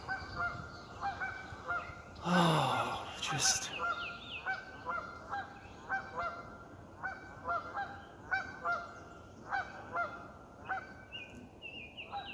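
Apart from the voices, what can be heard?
geese honking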